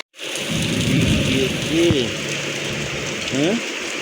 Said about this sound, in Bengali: কি জোরে বৃষ্টিটা হচ্ছে আজকে।